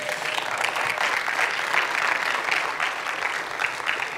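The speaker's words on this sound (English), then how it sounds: "I got a few claps, but it's still true." A church congregation at Rock Church claps during a sermon, a sustained, fairly loud round of many hands with an even texture throughout.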